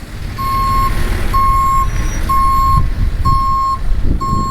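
A dump truck reverses with its backup alarm sounding about five evenly spaced, loud beeps over the nearby engine's low rumble and some background noise.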